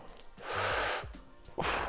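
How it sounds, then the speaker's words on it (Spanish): Exaggerated breaths during a chest workout exercise: two forceful, noisy exhalations, a long one followed by a shorter one after a brief pause, close to the microphone with no talking. "exagero la respiración"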